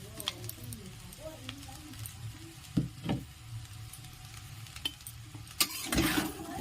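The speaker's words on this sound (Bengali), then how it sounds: "ডিমটা দিয়ে খুব ভালো করে মিশিয়ে নেব।" Fried egg stirred into street-style chowmein in a pan, with soft scraping and occasional sharper clatters of the utensil over a faint sizzle, quiet and close.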